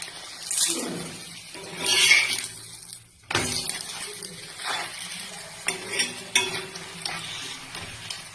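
Ghee sizzles around a paratha frying in a pan over low gas, with bursts of crackle and clinks of a utensil stirring and scraping, fairly close and fluctuating, no talk.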